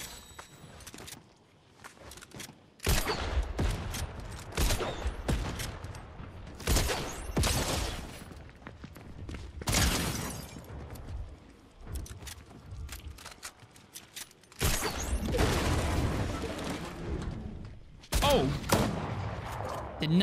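Bursts of shotgun and crossbow fire in Fortnite Zero Build, arriving as sharp loud volleys separated by quieter gaps across the stretch, with light movement noise between shots.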